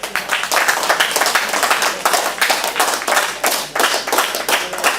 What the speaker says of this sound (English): If I'm right, clap your hands.